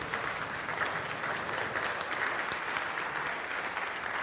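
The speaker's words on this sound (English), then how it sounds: "They're clapping as if that's like an accomplishment or something" A church congregation applauds steadily throughout, a dense, even wash of clapping from many hands at moderate distance, with no break or voice standing out.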